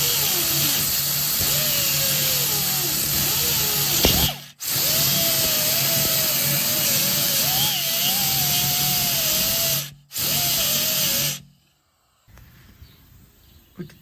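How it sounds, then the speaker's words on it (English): An angle grinder fitted with a 40 grit disc grinds down exhaust work on a 1972 El Camino with an LS swap, a loud continuous whine in two long bursts with a short pause between, then stopping. "I'm gonna grind that down a little"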